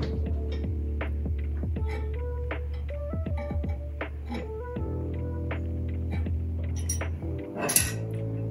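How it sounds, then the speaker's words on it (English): An open-end wrench tightens a bolt on the timing chain of a 1970 Plymouth Custom Suburban, giving scattered close metallic clinks and ticks over a steady low hum, with no talk. "I'm probably gonna have to just use a wrench"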